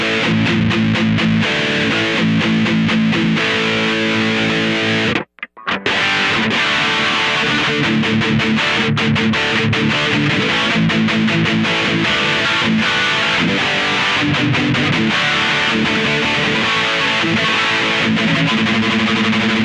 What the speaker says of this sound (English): What do you think about that rat distortion?